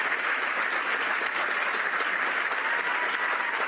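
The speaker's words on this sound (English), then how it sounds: "how long are they going to applaud for" A large studio audience applauds continuously, a dense, even wash of clapping that holds at steady loudness throughout without a break.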